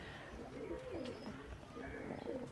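KTM and Oman bloodline teddy pigeons coo softly in a low, rolling murmur, repeated throughout with some faint background voices mixed in.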